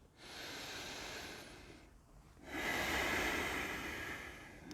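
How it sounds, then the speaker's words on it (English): Deep yoga breathing, with a long, steady inhale through the nose and then a louder, airy exhale after a short pause, close and clear with no talk. "Take a breath in and out."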